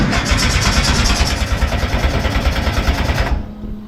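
An engine cranks steadily without catching, a loud, fast, rhythmic churning of the starter for over three seconds before it cuts off, leaving a faint hum.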